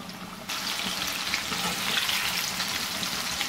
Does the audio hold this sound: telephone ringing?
no